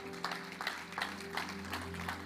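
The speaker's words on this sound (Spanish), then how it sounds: "Póngase de pie y déle un aplauso fuerte a nuestro Dios." A church congregation applauds its God after a sermon, steady clapping from many hands with voices mixed in, somewhat distant in a reverberant hall.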